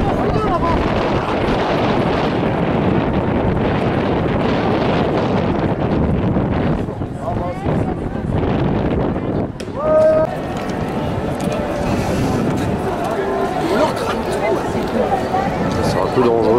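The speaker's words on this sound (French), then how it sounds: "Du vent, hein." Wind blowing outdoors during a street protest in Paris, gusting and buffeting a nearby microphone in rough, roaring bursts, with people talking over it and a brief high squeal partway through.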